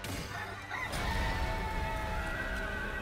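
A rooster-like boss in the video game Black Myth: Wukong lets out a loud, drawn-out clucking cry over rumbling battle noise, close and alone.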